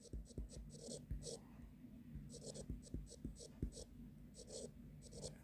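Chalk or pen scratches out handwriting during a mathematical physics lecture, quick rhythmic strokes with short pauses, close and quiet, with faint low talk underneath.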